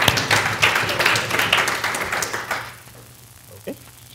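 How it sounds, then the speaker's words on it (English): Audience at a law symposium theatre panel bursts into a short round of applause, dense clapping for about two and a half seconds before fading quickly to near silence. "so have a round of applause"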